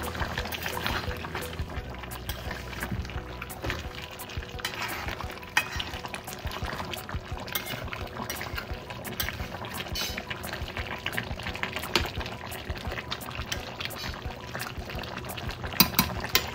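Mutton simmering in a pot on a gas stove gives a steady, bubbling, liquid churn that runs throughout at a moderate level, with occasional louder pops and clinks.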